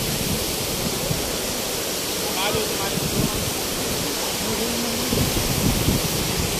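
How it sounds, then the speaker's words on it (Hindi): A tall natural waterfall in Swat roars steadily as rain falls in cool wind, with people talking over the constant rushing water. "ऐसे पानी इतनी ऊंचाई से गिर रहा"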